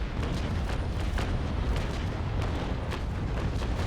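A cannon broadside from a sailing warship in the Naval Action video game: a dense, continuous rumble of overlapping booms lasting several seconds, loud and sustained with no clear gaps.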